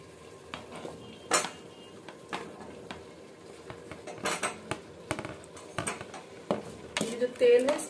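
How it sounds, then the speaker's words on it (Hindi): Cauliflower tipped into a pan of vegetables for an aloo matar gobi mix and stirred, with scattered clinks and scrapes of a spoon against the metal pan and a louder rattle near the end. "अब इसी में गोभी डाल देंगे।"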